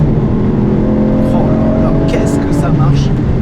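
Aston Martin V12 engine, 573 horsepower, running steadily up close with a continuous loud drone throughout, while a person speaks over it in the cabin.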